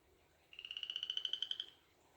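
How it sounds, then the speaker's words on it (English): A frog sings a single pulsed croaking call of about a dozen rapid, evenly spaced notes, clear and fairly close over quiet background. "Or what a frog represents as a spirit animal since he's decided to sing to us."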